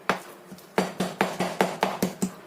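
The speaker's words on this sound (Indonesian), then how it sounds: "Cincang sampai halus" A knife finely chops prawn filling on a board, giving about eight sharp, close, evenly spaced chops in a steady rhythm with no speech.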